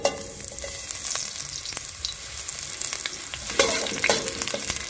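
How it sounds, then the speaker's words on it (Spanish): Onion fries in oil in a pan with a close, continuous crackling sizzle, punctuated by a few stirring scrapes, and no voices. "de este lado ya se le puso un poco de aceite y seguimos ocupando la cebolla del tío Juan."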